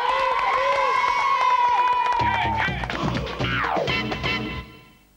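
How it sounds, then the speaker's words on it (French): An audience cheering and applauding at a 1996 children's TV show, with loud crowd noise and a rising whistle-like shout that fades out at the end. "c'est surtout pour toi qu'ils applaudissent"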